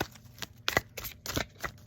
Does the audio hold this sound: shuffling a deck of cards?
yes